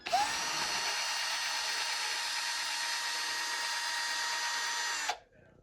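A powered brass wire brush spins against the rusty starter shaft of a 1996 Nitro Stampede, a steady high-pitched whir that runs for about five seconds and then cuts off abruptly into quiet.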